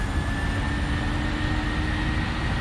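Airliner jet engines roar at takeoff thrust in a flight simulator, a loud, steady broadband rush with a thin whine running through it, continuous and unbroken.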